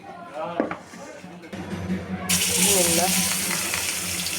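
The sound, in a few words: rohu fish frying in a pan (kadai)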